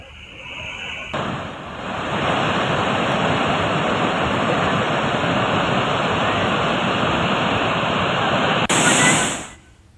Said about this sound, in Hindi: वहीं बारिश से मनियारी नदी के राजीव गांधी वेस्टवेयर से पानी 2 फीट ऊपर बह रहा है।